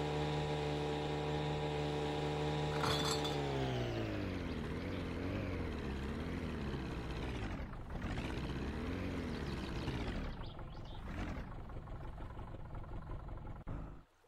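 A boat motor droning in the video game My Summer Car, a loud steady engine hum whose pitch sweeps down, wavers up and down as the throttle shifts, then drops away as the motor cuts off at the end.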